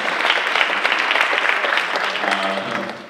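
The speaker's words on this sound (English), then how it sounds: "So give him a round of applause" A conference audience at an equity and mental health event breaks into sustained applause, dense and steady for the whole stretch, loud and close, with no voices standing out.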